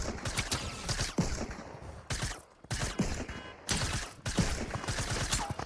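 Rapid bursts of automatic gunfire in the game Fortnite, played in a hardcore mode, come in dense repeated volleys with short lulls between them and keep up steadily throughout.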